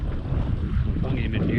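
A boat driven by Epropulsion Navy6 electric outboard motors while anchoring, heard as a close low rumble of water and wind buffeting the microphone, with a brief faint voice near the end.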